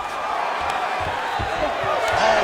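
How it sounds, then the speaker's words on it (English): Crowd in the EA Sports UFC 5 video game roaring as two fighters rise from a grappling exchange on the mat, a dense, steady wash of cheering that swells louder toward the end. "big pop from the crowd as they get back to their feet after a pretty scintillating grappling battle there on the ground"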